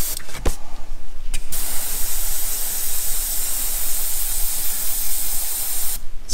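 Airbrush spraying paint onto a Nagash miniature, a loud continuous hiss held for several seconds, with short bursts starting and stopping at the beginning and end.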